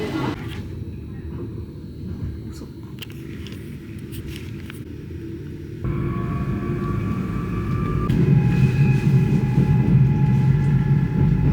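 Jungfrau railway train running from Eigergletscher station up to Jungfraujoch, a steady rumble and rattle of carriages that grows louder partway through, with some muffled talk mixed in.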